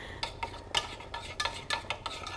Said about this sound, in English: So I'm just gonna give it a little stir just to encourage it to melt a little faster